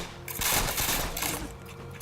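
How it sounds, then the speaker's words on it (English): Rapid gunfire from a double-shot weapon in the video game Borderlands 2, a dense burst of loud overlapping shots that runs almost continuously for about two seconds. "this does fire 2 bullets with every shot, but I am burning through my ammo"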